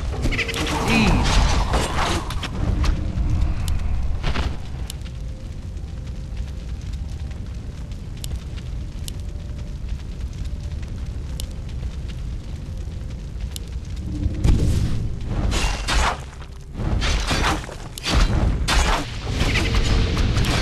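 Fiery blasts and booming explosions in Warcraft III: The Frozen Throne, in the Tomb of Sargeras, rumbling loudly and continuously with sharp bursts scattered throughout and a heavy cluster of impacts near the end, with a voice occasionally talking over the game.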